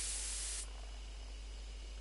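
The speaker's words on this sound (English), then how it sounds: "Take careful aim and spray the drug." A sprayer loaded with insecticide sprays at a bee hive in a video game, a short sharp hiss lasting about half a second before it cuts off to a faint background hum.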